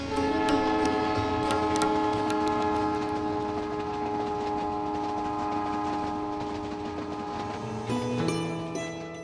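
The Palace on Wheels luxury train rolling through Rajasthan toward Bharatpur, a loud sustained horn with steady tonal harmonics over rumbling wheels and clicking rails, the pitch shifting near the end.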